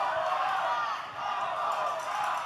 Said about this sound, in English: the crowd saying one more time